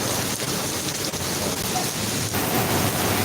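Steady rain in Singapore, a dense, continuous hiss of falling water close by with no letup over a few seconds.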